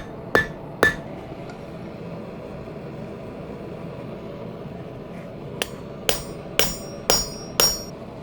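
Sharp metallic hammer-peen strikes ring out on steel being forged: two early blows, a long pause with low background hum, then five evenly spaced ringing hits.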